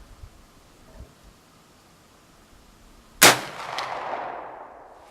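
A single sharp report from a US Model 1884 Trapdoor Springfield rifle cracks out after quiet, followed by a long fading echo rolling away across open ground.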